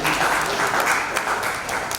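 Ceremony audience at a memorandum-signing event gives sustained applause, a steady close wash of many hands clapping.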